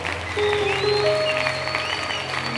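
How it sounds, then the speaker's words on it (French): Congregation clapping at a prayer marathon, a continuous wash of applause mixed with sustained musical tones and hum, moderately loud throughout. "applaudissons très bien pour le roi des rois"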